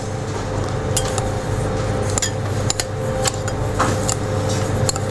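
A utensil clinks and scrapes against a bowl as ingredients for a scallop dish are stirred together, with irregular metallic taps over a steady background hum and no talking.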